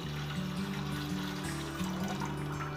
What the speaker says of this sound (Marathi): एका पातेल्यामध्ये एक तांबे पाणी टाकून घ्यायचे